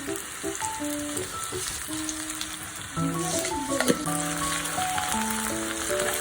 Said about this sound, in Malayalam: അപ്പോൾ എണ്ണയൊക്കെ നല്ല ചൂടായിട്ടുണ്ട്. ഉള്ളി ഇടാം. ഇനി കുറച്ച് ഉലുവ ഇടാം.